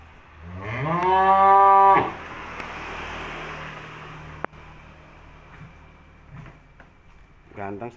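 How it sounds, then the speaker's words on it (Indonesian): A young cow, about six months old, lets out one loud, drawn-out moo close by at a cattle sale pen. A low rumble of background noise follows, and someone talks faintly near the end. "Ganteng sapinya ya."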